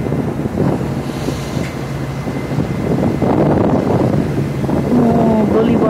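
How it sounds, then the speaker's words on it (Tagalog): Wind gusting along the seaside boulevard in Dumaguete, a steady loud rush with buffeting on the microphone and a faint ship's engine hum beneath, no talking. "Medyo mahangin."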